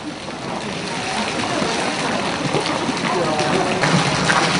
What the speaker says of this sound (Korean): 산에서는 성스러운 물이라 여겨지는 오토와 폭포가 시원하게 흘러내리고 있습니다